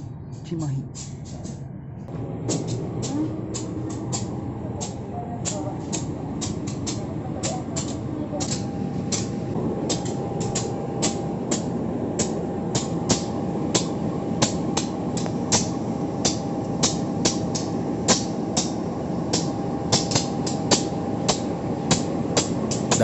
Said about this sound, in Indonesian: Kereta lokal Bandung Raya melanjutkan perjalanan menuju stasiun Padalarang